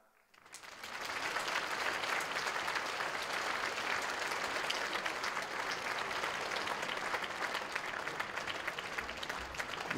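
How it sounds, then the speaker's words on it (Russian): Applause at an award ceremony swells from quiet in the first second into sustained, dense clapping from a large audience, even and unbroken to the end. "Здесь аплодисменты возрастают,"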